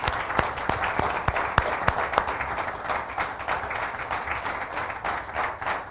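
Applause from an audience at a public forum on the impacts of the riots, greeting a first performance: a dense, steady wash of many hands clapping, fairly close and loud, with a few sharper claps standing out early on.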